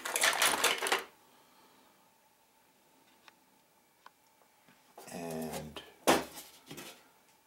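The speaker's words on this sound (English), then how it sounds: "A lot of screws, a lot of screwdrivers" Loose metal screws and screwdrivers in a box of woodworking tools clatter and jangle in two short bursts of rummaging, with faint clicks between them and quiet talk.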